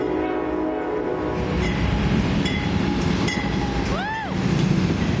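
A westbound train rolling past with a continuous heavy rumble and rail noise, joined by a brief horn blast near the end.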